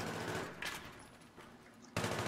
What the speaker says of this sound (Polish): Z balkonu strzela koleś